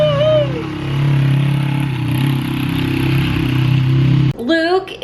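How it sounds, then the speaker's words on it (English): A motorcycle engine drives around a house, a steady mid-pitched drone with a clattering edge that shifts as it moves, then a sharp change near the end as it revs or passes close. "I heard him driving around the house on the motorcycle"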